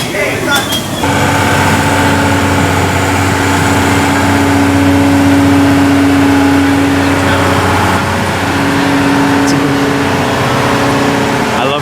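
A train ride at Dorney Park amusement park in Allentown rumbles past with a steady, loud engine drone and sustained tonal hum, while people talk over it.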